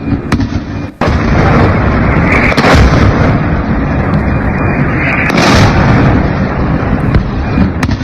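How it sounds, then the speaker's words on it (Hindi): An Iranian missile strike in Israel, recorded for a news report, brings a sudden loud blast followed by a continuous roaring rumble and crackling bursts that stay intense throughout. "ये ईरानी मिसाइल आकर गिरी है और यह धमाका इजराइल में हुआ।"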